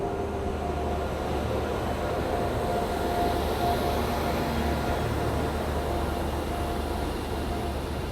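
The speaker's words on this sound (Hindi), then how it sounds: "तो भाई ये आ गई अपनी नेताजी एक्सप्रेस।" Netaji Express, the Kalka to Howrah train, rolls into a station with a steady, loud rumble of rail wheels and carriages, a continuous low roar with faint squeals, no voices.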